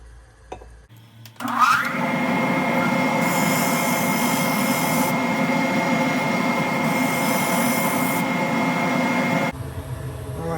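Power sanding of a segmented wooden pen blank, a steady loud whirring drone with abrasive grit that holds for about eight seconds before cutting off.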